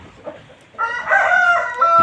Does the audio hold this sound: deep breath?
no